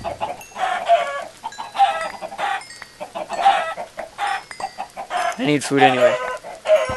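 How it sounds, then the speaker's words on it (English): Chickens clucking in Minecraft, repeated bursts of clucking in a steady rhythm, fairly close and clear, with someone briefly talking over them. "These damn chickens."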